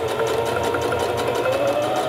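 A sewing machine running steadily while stitching a western-style cowboy vest: a continuous, close motor whir with a rapid needle rhythm throughout.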